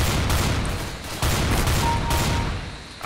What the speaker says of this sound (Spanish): Oigo tiritos.